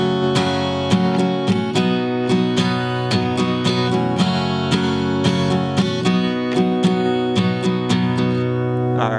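Acoustic guitar strummed in a common rhythm variation for a song, steady repeated down-up strokes with sharp regular accents, close and alone.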